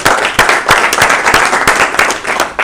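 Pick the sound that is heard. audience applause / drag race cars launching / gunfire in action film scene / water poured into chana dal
audience applause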